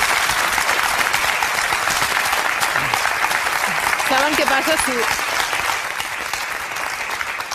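Studio audience applause during a televised Catalan interview, a steady dense clapping wash that fills the whole stretch while someone speaks over it.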